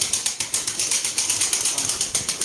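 Pigeons flap their wings in quick rhythmic bursts close by, with soft cooing mixed in under the steady beating, loud and repeated throughout.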